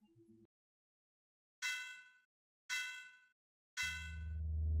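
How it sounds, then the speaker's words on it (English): A clock bell in the video game Eonia strikes three times, clear metallic clangs each ringing out and decaying, spaced about a second apart, with a low musical tone swelling in under the last strike. "The bell of the clock."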